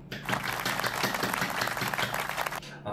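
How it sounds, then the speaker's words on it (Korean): A burst of applause at a lecture on MCT machining, with dense, close clapping that starts abruptly, holds steady for a few seconds and then stops cleanly. "박수!"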